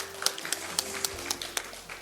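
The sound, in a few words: audience applause after a lecture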